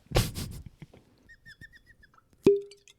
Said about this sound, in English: It's that real cork pop.